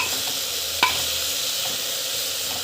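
Spices and onions sauté in a pan with a steady, close sizzling hiss throughout, one sharper clink of a utensil near the start; no talking.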